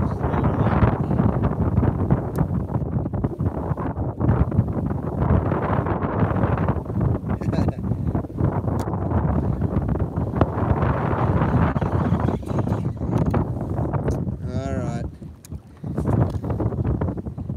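Gusty wind buffeting over a small fishing boat out on open water, a loud ragged rush and roar throughout with brief dips and clatters.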